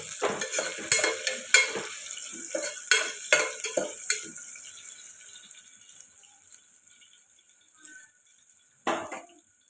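Onions and curry leaves frying in oil in a pan for a peas and tomato curry, sharp spattering bursts and stir clatter at first, settling into a quieter sizzle with one late burst, no talking.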